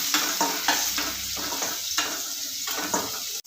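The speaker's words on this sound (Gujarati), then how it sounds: "આપણું તેલ ગરમ થઈ ગયું છે તેમાં હું પહેલાં હિંગ ઉમેરી દઈશ અને એક ચમચી જેટલું વાટેલું લસણ છે એ ઉમેરી દઈશું" Asafoetida and crushed garlic sizzle loudly in hot oil for a sev tomato curry, a steady close frying hiss broken by repeated stirring scrapes, with no talking.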